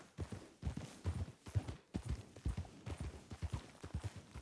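Horse hooves clip-clop in a steady, uneven trotting rhythm in a Western video game, faint and close, with one horse seemingly lagging slightly behind.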